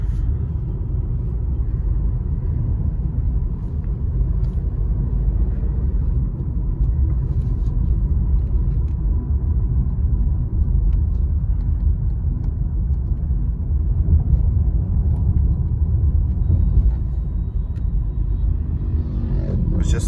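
Steady low road rumble and engine drone inside a 2020 Honda City sedan cabin on a night drive, continuous and even with no talking.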